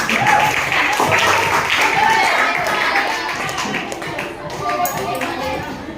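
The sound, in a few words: class applauding three students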